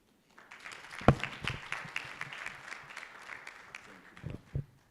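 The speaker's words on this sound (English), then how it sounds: "We clap for the UN and the AU" Scattered audience clapping at a meeting of the African Women Leaders Network that swells briefly and then thins out, with a few louder claps near the end.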